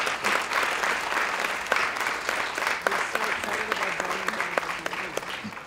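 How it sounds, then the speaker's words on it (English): Steady, dense audience applause at the SANGAM 2015 event at Indus International School fills the room, with sharp individual claps standing out throughout and no talk. "I'd like to give a big round of applause to him."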